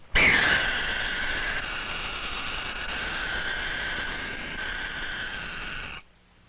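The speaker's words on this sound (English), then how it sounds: "That was the alarm cry of the burrowing owl." A harsh, sustained raspy hiss with a buzzing rattle quality, a burrowing owl's alarm cry, holding steady for several seconds before stopping abruptly.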